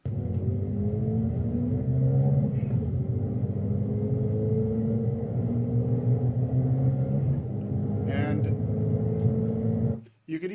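Car engine revving up steadily through several gear shifts, with rising engine tones that drop at each shift and a brief quiet break near the end, loud and close throughout.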